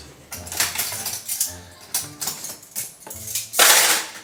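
Small teaspoons being put away during kitchen tidying, a run of clinking metal knocks and rattles in irregular bursts, close by with no talk.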